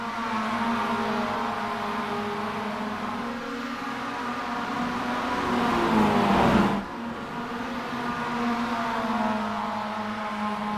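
Roadster race cars complete the first lap of a race on a circuit. Their engines drone loudly and continuously, swelling as cars pass close by and fading slightly afterward, with no talk over them.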